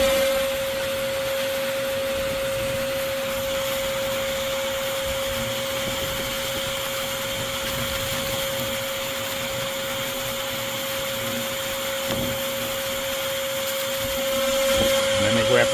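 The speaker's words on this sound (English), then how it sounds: "I'll keep at it, vacuuming them off the camera." A vacuum motor drones loudly and steadily with a constant high whine, occasional rattles and knocks as hornets from a nest in a tree trunk get sucked in, rising slightly near the end.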